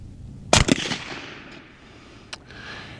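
Rifle shots fired at a 50 yard outdoor target: two sharp loud cracks in quick succession with a short echo, then a fainter distant shot a couple of seconds later over quiet background noise.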